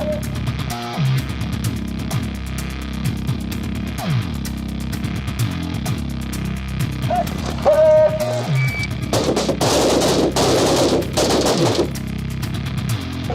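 Gunfire at an outdoor shooting range, a rapid clattering string of shots mixed with rumble and crackle, fairly loud and near, growing denser toward the end without spoken voices.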